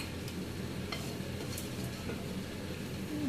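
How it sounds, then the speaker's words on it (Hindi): Cumin seeds frying in hot oil in a pan, a soft steady sizzle with a few faint crackles and light clicks, fairly quiet and close. "जीरे को हमें हल्का सा फ्राई करना है कि वो अपना कलर चेंज कर ले"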